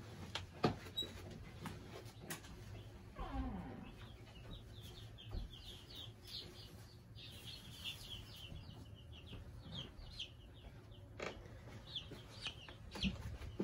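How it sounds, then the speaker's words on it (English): A single baby chick, hatched about a week earlier and kept at a house, peeps in short, high, repeated calls close to the microphone, alone over a low steady background hum. "This is just one of the chicks that we have at our house."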